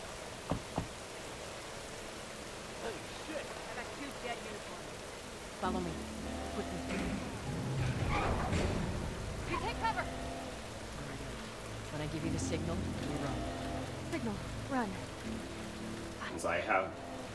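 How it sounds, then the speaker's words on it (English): Steady rain falls outdoors in The Last of Us Remastered on PS4, a soft continuous hiss lying beneath louder game sounds, footsteps and bursts of activity midway through. "it is raining outside"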